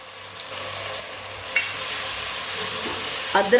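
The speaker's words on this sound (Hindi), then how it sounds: "और सब्ज लहसुन को भी 2 मिनट के लिए पका लेंगे" Chopped green garlic and crushed ginger fry in oil in a pan, giving a continuous close sizzle with a couple of brief stirring scrapes and no voices.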